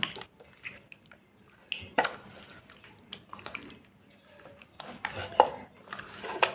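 Spices being mixed by hand into raw chicken for tandoori chicken, giving soft wet squelching and occasional clinks of a bowl in short irregular bursts, close up with no talk.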